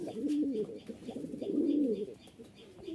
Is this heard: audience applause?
no